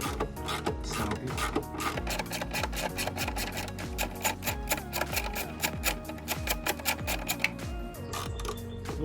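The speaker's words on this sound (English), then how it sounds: "So let's start off by getting this cover off. 10mm socket." A ratcheting 10mm socket wrench works bolts loose from the engine cover of a 3.5L EcoBoost Ford F150, producing rapid, close, rhythmic clicking bursts that repeat steadily throughout, with no talk.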